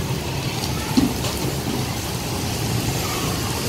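Steady rain falling outside on a street, a constant dense hiss with low rumble and a brief faint knock, no speech.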